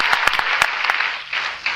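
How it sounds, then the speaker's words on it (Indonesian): A church congregation claps together, bright dense applause with a few louder individual claps, steady for under two seconds and then easing off slightly. "Tepuk tangan saya lagi buat Tuhan"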